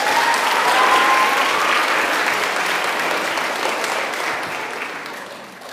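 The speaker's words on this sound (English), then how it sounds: "Let's give them a round of applause." Sustained audience applause in a chapel gathering for a cubing challenge, a loud, even roar of many hands clapping that slowly tapers near the end, with a faint voice briefly heard early on.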